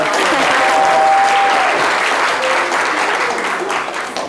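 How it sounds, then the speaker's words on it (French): A crowd claps steadily for several seconds, a dense, loud patter of applause that gradually tapers off toward the end. "On va l'applaudir."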